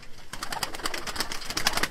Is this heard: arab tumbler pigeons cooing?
yes